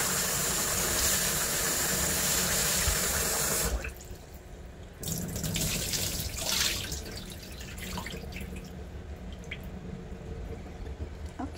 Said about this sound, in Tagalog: bangasan natin ng tubig.